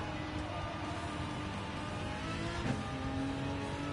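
An American V8 Gr.3 race car engine drones steadily and fairly faintly at sustained revs, a dense, continuous roar with no other sounds on top.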